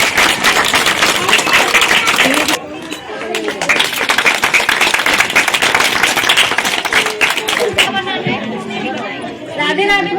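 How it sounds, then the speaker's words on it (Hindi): A crowd at a community event claps together, a dense burst of applause followed by lighter scattered clapping mixed with chatter and voices. "एक बार तालियां बजा दीजिए।"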